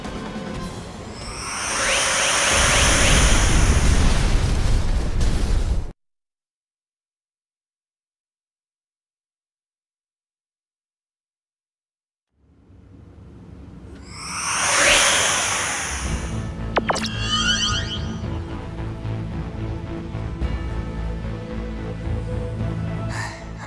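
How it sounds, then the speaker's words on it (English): An explosion in the video game Star Ocean 5 comes as two loud rushing whooshing blasts separated by several seconds of total silence, the second trailing into a rumbling, crackling tail. "Transport the 5 of us out of here before this explosion does it for us."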